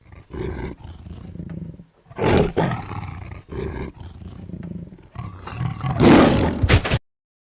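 Leopard roaring in a rural Gujarati village setting, a series of loud, rasping roar bursts in several separate calls with brief pauses, the final roar the loudest and longest, heard alone without talk.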